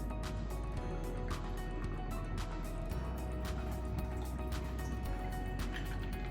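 A cocktail pours steadily into a champagne saucer glass, a soft continuous trickle with small drips and clinks, close and fairly quiet.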